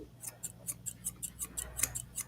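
Dog grooming thinning shears snip through a dog's coat about a dozen times in a steady, close, crisp rhythm, with no voices.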